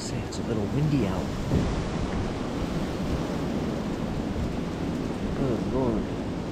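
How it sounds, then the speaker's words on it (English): Steady wind gusting outdoors beside a road at a deer hunting spot, a broad rushing noise that stays constant throughout with no talking. "it's a little windy out."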